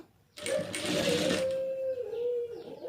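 A sewing machine runs a single steady burst of stitching on a blouse lining, a close, loud whir lasting about a second before it fades into a thin lingering hum.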